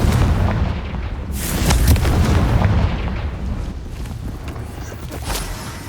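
Blasting spell explosions in a Hogwarts Legacy battle: repeated booming bursts and crackling impacts over a dense, continuous rumble of combat noise, with a voice calling out spells in between.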